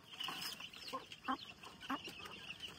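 A hen clucks among her chicks on a poultry farm, pecking at her own young; short, sharp clucks come every half second or so, close and moderately loud over a low farmyard bustle.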